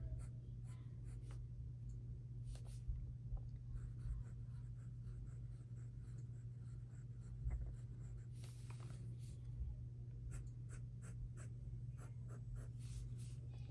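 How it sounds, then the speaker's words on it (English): A new Benu Euphoria fountain pen with a fine nib scratches lightly across paper in short strokes and pauses, quiet and close, over a steady low hum. "But this pen writes amazing."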